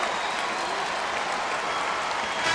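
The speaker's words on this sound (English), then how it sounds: "A lot of hand claps." Applause and crowd noise fill an arena after a Team USA basketball tune-up game against the Dominican Republic, a dense, steady wash of many hands clapping that runs throughout at a loud, even level.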